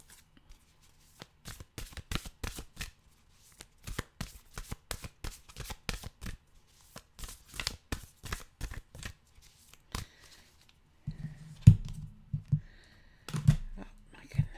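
A deck of oracle cards being shuffled, close and quiet, as crisp riffles and flicks come in irregular bursts, ending with a few louder thumps of the cards being handled.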